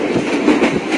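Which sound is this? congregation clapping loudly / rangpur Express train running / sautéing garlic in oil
rangpur Express train running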